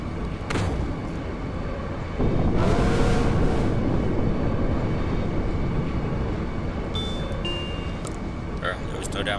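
A low, steady rumble of a moving train in Final Fantasy 8, loud and continuous throughout, swelling slightly partway through, with a few faint higher tones near the end.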